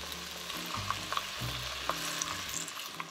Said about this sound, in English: Now I'm going to add in a can of diced tomato,